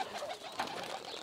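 Fancy pigeons at a pigeon farm give soft, low cooing calls over a faint steady background, heard briefly and at a modest distance with no talk.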